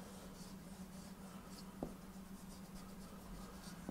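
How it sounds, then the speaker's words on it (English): A pencil eraser rubs out a drawing line in a triangulation drawing lesson, a soft, steady scratchy rubbing that runs continuously and fairly close, with one brief sharper tap midway. "Okay, so I erase this out."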